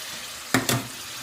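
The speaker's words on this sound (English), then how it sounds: "Now in with the second dose of base gravy, another 75ml." Base gravy goes into a simmering BIR-style chicken Madras curry pan, giving two quick, sharp sizzling bursts close by over a quiet background.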